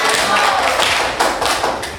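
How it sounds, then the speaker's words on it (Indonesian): A crowd of students at a university gathering claps for presenting groups, a dense, close burst of hand claps with some heavier taps and thumps mixed in, lasting about two seconds. "Oke, beri tepuk tangan untuk mereka semuanya."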